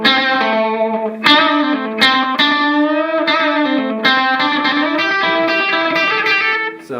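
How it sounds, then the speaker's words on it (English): An electric guitar runs through Clean Boost and Tube Screamer pedals, playing a series of sustained, lightly overdriven chords and notes with rich harmonics, struck at roughly one-second intervals, loud and alone. "sometimes I'll use the Clean Boost with the Tube Screamer, just because it offers a really cool effect"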